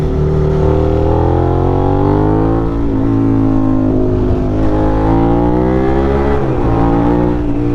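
A Suzuki SV650 motorcycle ridden at night in New York City, its engine loud and close, steadily revving up through the gears with rising pitch and brief dips at shifts.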